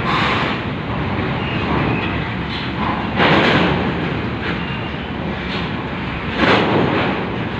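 A heavily loaded truck rolls slowly off a ferry at Merak port, a loud, close, broadband engine roar that swells twice while the truck crawls forward.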